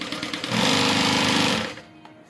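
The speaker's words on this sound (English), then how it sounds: "let's sew this down." A sewing machine stitches a vinyl zip-around wallet, a close steady mechanical whir with fast rhythmic needle pulses that runs about a second and then stops.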